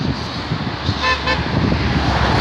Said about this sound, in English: There goes the lovely honk.